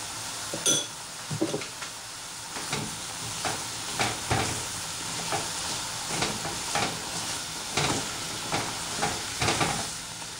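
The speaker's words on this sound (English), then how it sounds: "you just want to add a little bit of water to your apples and cook them down." Diced apples with water and sugar cooking in a pan on the stove, a steady soft sizzle under repeated clinks and scrapes of a utensil stirring against the pan, close and moderately loud throughout.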